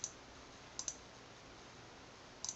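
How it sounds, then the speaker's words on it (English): A Bluetooth mouse gives faint, crisp clicks in quick pairs, a double click at the start and again near the end, with a lone click in between, against a quiet background hiss. "I wonder if you could do double click."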